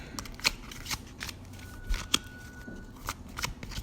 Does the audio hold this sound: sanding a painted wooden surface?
no